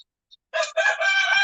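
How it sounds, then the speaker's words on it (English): A rooster crows once nearby, a clear, drawn-out call with a brief break, following a faint chirp. "I hear birds out there"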